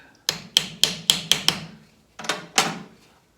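A hammer drives a tenon into a cedar end table joint with a run of six sharp knocks, then a pause and two or three more, close and crisp.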